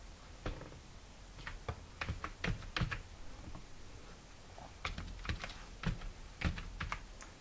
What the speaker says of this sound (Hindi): टाइप करना है विन वर्ड